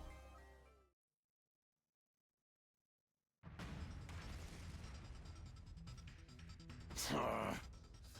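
A video-game explosion in The Hundred Line Last Defense Academy, where a sudden dense roar bursts in after a stretch of silence, holds steady, then swells into a louder blast near the end.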